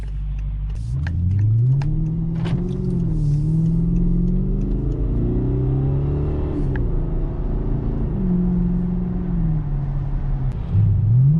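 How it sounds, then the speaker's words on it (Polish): A BMW E60 550i engine with a newly replaced exhaust revs repeatedly, its deep exhaust rumble rising and falling in pitch through several throttle blips, heard close from inside the car. "Dobra, jak teraz brzmi samochód po wymianie wydechu?"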